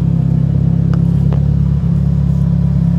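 A Mitsubishi Lancer Evolution VIII engine holds a loud, steady, close-up rumbling note with a strong low drone, alone without talk.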